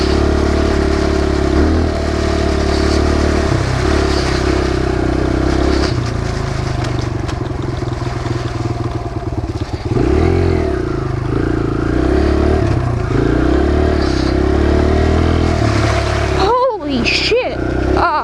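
A Kawasaki KLX 140 dirt bike engine runs steadily and loud throughout, its pitch rising and falling with gear changes while the rider works the clutch, with a brief sharper burst near the end.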